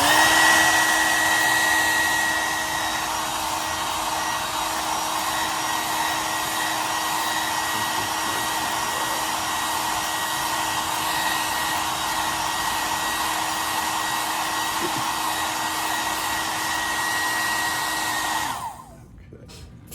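A hair dryer blows steadily and loudly to dry paint on an owl painting, a continuous whirring whine that drops slightly after a couple of seconds and cuts off abruptly near the end.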